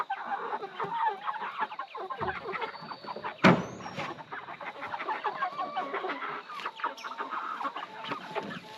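Cornish cross meat chickens cluck and chatter in a dense, continuous flock close by, with one sharp louder squawk partway through and no voices.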